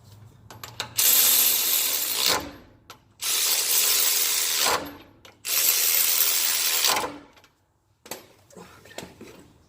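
A ratchet working bolts tight on a 2017 Jeep JK, three long bursts of dense rapid clicking separated by short pauses, then a few scattered softer clicks, close and fairly loud.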